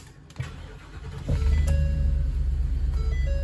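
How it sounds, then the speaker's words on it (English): A mobile clinic vehicle's engine starts with a brief crank and settles into a steady low idle rumble, heard up close with no talking. "To operate the wheelchair lift, what you need to do is first power on the vehicle."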